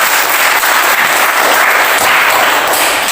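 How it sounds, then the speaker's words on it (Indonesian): Students in a class session applaud together, loud and close, a dense continuous wash of clapping that holds steady for the whole stretch. "Kelompok terakhir dan tepuk tangan untuk kita semua."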